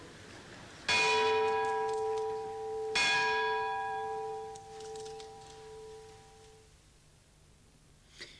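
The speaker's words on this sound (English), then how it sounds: "this evening, at Lloyds, they were ringing the lutine bell" Lutine bell at Lloyd's of London rings twice, two clear struck tones a couple of seconds apart, each leaving a long shimmering decay in a quiet room.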